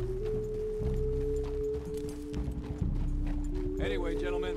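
Horse hooves clip-clopping in the video game Red Dead Redemption 2, a rhythmic beat of footfalls under sustained game music, with a voice speaking near the end.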